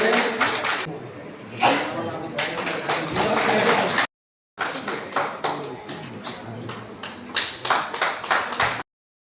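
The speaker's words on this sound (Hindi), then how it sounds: "जोरदार तालियों से स्वागत करें।" Audience applause at a Kurmi Vikas Morcha women's gathering, bursts of many hands clapping mixed with a speaker's voice, loud and close, broken by a brief cut midway.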